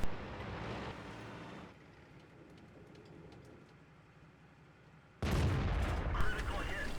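A tank gun fires at a Lorraine in a tank video game: a sudden loud boom at the start fades into a rumbling engine drone, then another heavy blast erupts near the end and holds as a dense roar.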